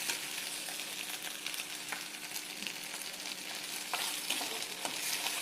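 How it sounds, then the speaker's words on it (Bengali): Ginger and garlic frying in a pan while cooking palak chicken curry: a steady, close crackling sizzle runs throughout with no talking. "আদা রসুনটা দিয়ে দিয়েছি, সুন্দর করে ভাজা ভাজাও হয়ে এসছে"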